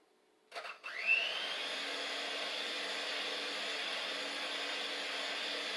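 An electric hand mixer starts up after a couple of clicks and then whirs at a steady high whine, running alone and close with no talking.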